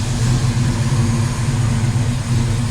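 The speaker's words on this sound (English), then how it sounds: "letting the engine come to full operating temperature" A 1970 Chevrolet El Camino engine idles as it warms up to operating temperature, giving a steady, close, low rumbling hum that holds without change.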